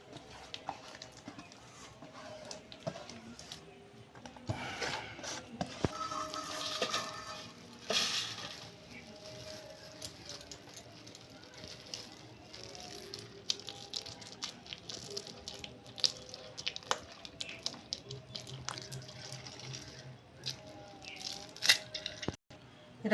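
Palm-fruit pulp being pressed and scraped through a net strainer: steady wet squishing and rubbing with faint rattles, close and continuous, with no pauses.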